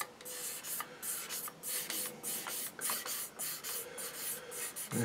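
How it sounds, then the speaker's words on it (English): Quick scratchy strokes of fine sanding against the hard painted surface of a Tamiya Skyline model car, repeated in an uneven rhythm, close and fairly quiet. "Now here I'm not necessarily sanding these surfaces, it's just knocking them back"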